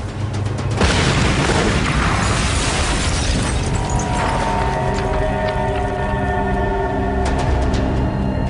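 A blast goes off in a hole after a countdown warning, a loud boom at about one second followed by a long rumbling, crackling roar that fills the rest of the clip.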